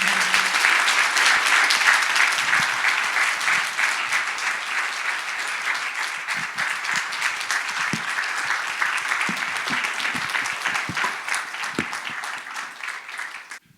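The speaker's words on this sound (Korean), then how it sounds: "박수 한번 부탁합니다" A congregation at a revival church service applauds to welcome a pastor, a full, sustained burst of clapping that starts loud and gradually thins and softens over about fourteen seconds.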